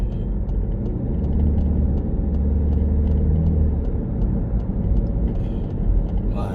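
A car pulls onto a motorway on a driving-test route near Bobigny and accelerates after a bend, a steady close engine rumble with road noise running throughout with no talk.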